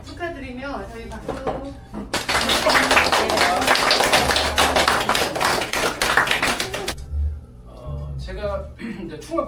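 An audience at a mountaineering book concert bursts into loud, dense applause that lasts about five seconds, then fades back to a speaking voice.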